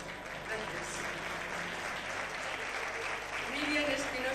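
Steady, moderately faint audience applause at the Fiesta de las Letras ceremony in Tomelloso, 1997, continuous clapping from a hall crowd lasting several seconds with a few voices mixed in.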